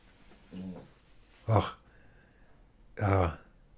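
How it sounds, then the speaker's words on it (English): A dog gives three short barks or yips nearby, spaced about a second apart, with quiet room noise between them. "what you barking at?"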